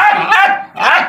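A four-month-old female bully breed puppy gives two loud, close, high-pitched barks in quick succession.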